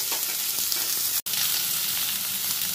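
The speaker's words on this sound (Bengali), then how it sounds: "এবার একটু নাড়াচাড়া করে উল্টে পাল্টে কাঁকরোল আর আলুটাকে ভেজে নেব।" Potatoes and spiny gourd fry in hot oil in a pan, a dense, even sizzle close by, broken once by a sharp momentary dropout, with no talk.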